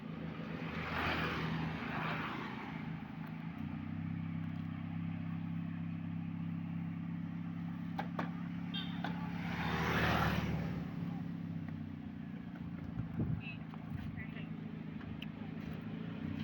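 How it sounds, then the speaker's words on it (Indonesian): A low, continuous airplane engine drone at an airport hums throughout with a steady tonal rumble, while people chat nearby over it. "Ini pesawat Garuda nih."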